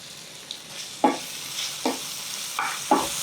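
Onion and tomato slices with turmeric are stirred in a frying pan, producing several distinct scraping strokes at a steady rhythm over a soft, continuous sizzle, with no talking.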